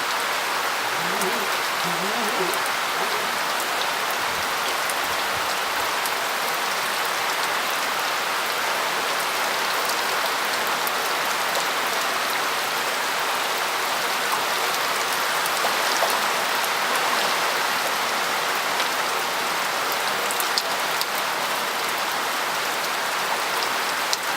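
Steady rain falls on a surface, a dense continuous hiss of drops that stays even and close throughout, with faint low murmurs now and then.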